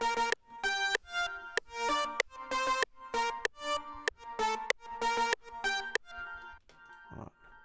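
A synthesizer lead plays a bright, bouncy melody that follows a song's chorus line, in short, evenly spaced notes with a sharp pluck-like attack, alone and without drums, fading out near the end.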